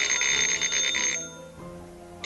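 An unfamiliar telephone rings from a child's playroom, a bright trilling bell-like tone pulsing for about a second before stopping, leaving a quiet hum.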